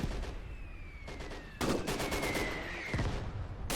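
A World War II-era anti-tank gun fires during a 1941 Soviet defense outside Moscow in the video game Gates of Hell, with a loud blast midway over steady background battle noise and a thin whistling tone.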